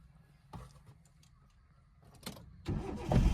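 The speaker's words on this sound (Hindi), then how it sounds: "अभी क्लच दबा के इंजन ऑन कर लीजिए।" Someone presses the clutch and starts a car during a driving lesson: a couple of clicks and a brief crank, then the engine catches and rises to a steady idle near the end.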